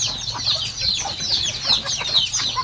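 A flock of pet bulik chickens clucks close by, with many overlapping short calls in a busy, continuous chatter.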